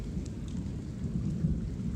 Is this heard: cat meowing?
no